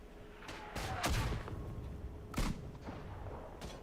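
In the WWI shooter game Isonzo, quiet distant mortar blasts and gunfire come in scattered bursts, a few sharp reports and booms set apart by low rumbling, faint battlefield background.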